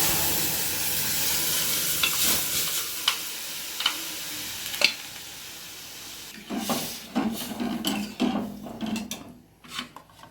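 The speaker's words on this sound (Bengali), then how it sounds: "এবার ফোড়নটা হয়ে গেছে, এবার ডালটাকে ঢেলে দিলাম" Urad dal (biulir dal) is poured into a hot spice tempering. A quiet, grainy sizzle and scraping stir build into louder, uneven bursts of frying toward the end.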